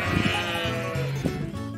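Sheep on a Montana ranch give several close, wavering bleats in quick succession, loud and clear against a faint outdoor background.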